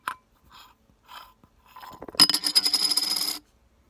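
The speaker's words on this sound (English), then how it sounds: "And my little coin." A small collectible coin drops onto a hard surface, giving a few faint taps and then a bright, rapid metallic ringing and rattling as it spins and settles, close by and alone.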